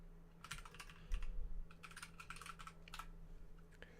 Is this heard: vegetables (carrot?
no